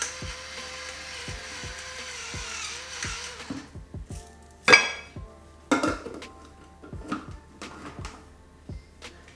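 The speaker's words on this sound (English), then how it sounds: "Let's mix everything until we have kind of a dough." Spoon or utensil clinks and scrapes against a bowl while vegan cheesecake dough is mixed with coconut oil, cinnamon and salt, a steady run of sharp taps at first, then scattered louder knocks, close and with no talk.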